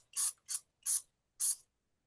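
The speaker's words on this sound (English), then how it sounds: "And this is an oral spray" Oral peptide spray bottle pumped four times in quick succession, each a short, crisp, close hiss, separated by brief silences and with no talking.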